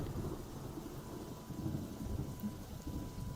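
A storm in a video game rumbles with low rolling thunder over steady rain, a continuous dark wash of sound with no voices.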